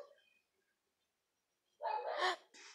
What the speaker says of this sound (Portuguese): Ô cachorro, por favor, fica quieto.